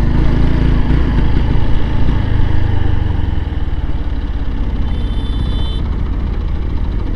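A motorbike engine runs out of fuel on a 300-foot highway and sputters as it stalls. A loud, rough low rumble pulses unevenly and then thins out as the engine falters.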